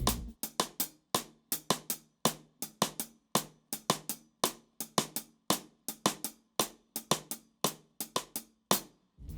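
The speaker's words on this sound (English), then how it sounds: "So we've got 3 on the hi-hat, 2 in the cross stick." A steady three-against-two drum polyrhythm: crisp, close hi-hat taps playing three interlocking with dry cross-stick clicks playing two, repeating evenly with no other instruments.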